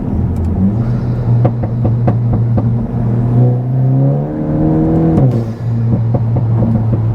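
Tuned 2022-era Volkswagen MK8 GTI with a Stage 1 torque tune accelerates hard from inside the cabin, its engine note rising steadily through the revs, dropping at a gear change, then climbing again, loud and close.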